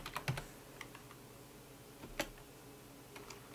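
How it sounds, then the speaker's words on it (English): Quick, light clicks of typing on a computer keyboard, a few close keystrokes in short bursts with quiet gaps between them. "just type what's my IP"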